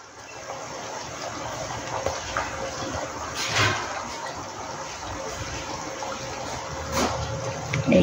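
Water is poured into a pot of lobster malai curry cooking with coconut milk and ghee, giving a steady splashing, running-water sound with a few brief clinks.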